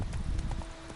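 Geralt's horse Roach trots in The Witcher 3, with several soft, rhythmic hoof clops over a muffled game background, close and moderately quiet.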